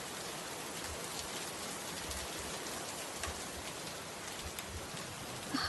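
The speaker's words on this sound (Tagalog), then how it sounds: "Umuulan kasi ng malakas eh." Dense, steady downpour of heavy rain hissing continuously, with occasional louder drops and no talking.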